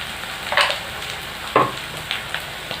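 Mashed potatoes drop into a hot pan of oil with dried chillies, raising a few short bursts of sizzling and stirring scrapes against a steady low frying hiss, close and moderately loud.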